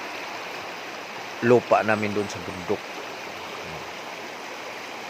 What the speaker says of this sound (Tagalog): Ito yung ilog na lagi namin binabaybay